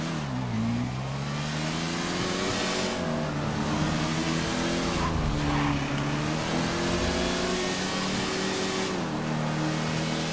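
Cars in GTA V Online revving and driving in a steady, loud engine drone with shifting pitch throughout, heard alone without talk.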